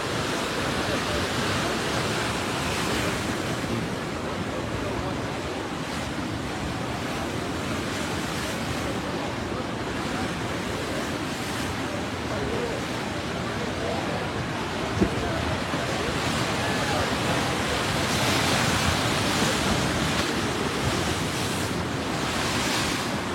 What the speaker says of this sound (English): Now you can see how the ocean surged back in a hurry.